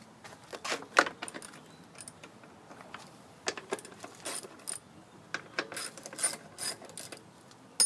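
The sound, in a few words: ratchet removing 8mm bolts from Bolens mower handle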